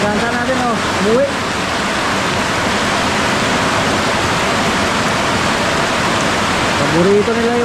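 Steady rain falling outdoors where chickens are kept, a dense even hiss that fills the whole stretch, with faint rooster crows rising through it near the start and end.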